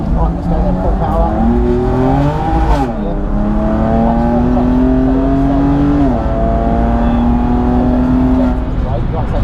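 A track car at a Palmer Sport track day accelerates hard at full power, its engine note climbing through gear changes, loud and close from inside the cabin, with a voice talking over it.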